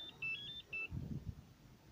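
A few quick high-pitched electronic beeps from a small Pandora car alarm key fob as three buttons are held, then a low rumble of handling noise, all fairly quiet.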